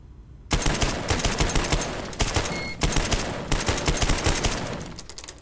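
Rapid bursts of AK rifle fire in a first-person shooter video game, loud and close, in several sustained volleys with brief pauses between them.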